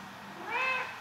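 A cat gives a single short, clear meow nearby against a quiet room.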